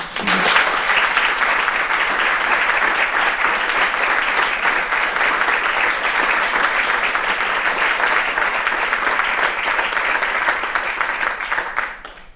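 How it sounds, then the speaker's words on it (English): An audience at a senior sports banquet applauds in a loud, sustained wash of clapping that lasts about twelve seconds without a break, then cuts off abruptly. "I think a big round of applause should go out to Brenda Carter."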